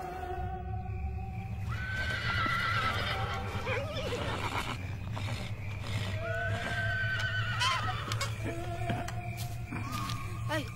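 Horses neigh and whinny repeatedly in a Kazakh animated cartoon, several loud shrill calls overlapping across the scene with hoof clip-clops and a steady background rumble.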